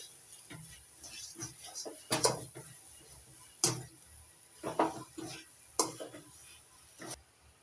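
Fried cashews are stirred into a carrot laddu mixture, giving scattered soft scrapes and a few sharper clinks of spoon on pan or bowl, fairly quiet and irregular, with no talking.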